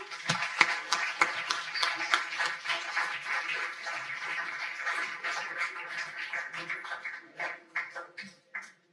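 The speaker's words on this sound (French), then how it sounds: "On peut les applaudir aussi." At a graduation ceremony at ENS Rennes, an audience applauds, with crisp individual claps over a fuller patter that thins out and scatters to a few last claps near the end.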